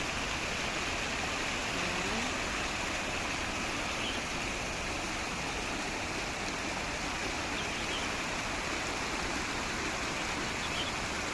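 Steady, broadband rush of an outdoor waterfall with blue water at Mongkok Park in Hong Kong, continuous and fairly close, with no talk over it.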